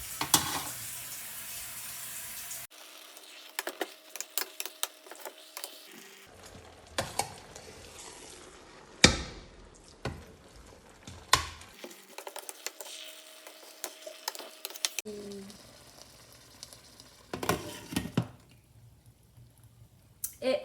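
Food sizzles in a pan in a home kitchen as it is stirred, with irregular scraping and stirring bursts over a steady quiet fry, near and fairly soft.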